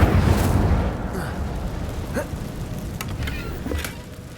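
The Incendio fire spell in Hogwarts Legacy, a burst of crackling, rushing flame that opens loud and then fades into a softer crackle with a few sharp pops.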